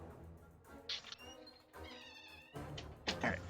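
An indoor cat pacing back and forth gives a few quiet meows mixed with soft rustles and knocks, heard faintly and fairly close in a quiet room without speech.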